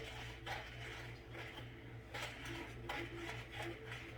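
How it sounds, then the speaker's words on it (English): A sweet potato pie mixture with melted butter is stirred in a bowl, producing faint, repeated scraping and clinking strokes at a steady rhythm over a low background hum. "Let me stir it a little bit."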